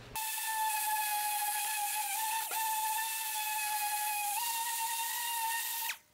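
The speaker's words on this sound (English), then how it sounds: "Now I'm gonna use some 80 grit hook it 3-inch abrasive for my DA sander" Dual-action sander fitted with a 3-inch 80-grit hook-and-loop disc on a metal firewall roll bar bracket, a loud steady high-pitched whirring whine that spins up, holds with slight dips in pitch, then winds down.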